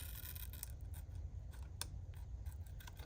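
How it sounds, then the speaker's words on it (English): Scissors snip through a folded paper bag in small, faint crisp cuts over a steady low background hum. "just try to do an even little cut just to where the fold is"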